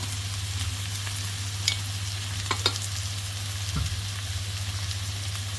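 Chili pieces are stirred into a frying pan over a steady sizzle and a low constant hum. A few brief scrapes and clinks of the utensil sound up close, with no speech.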